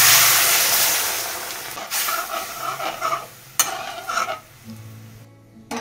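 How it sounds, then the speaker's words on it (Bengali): Radish cooking water is poured into a hot tempering of green chili and mustard seeds. A loud sizzling hiss bursts out and slowly dies down, followed by close stirring scrapes and small pan clinks. "এবার এই যে মূলোওয়ালা জলটা দিয়ে দিচ্ছি"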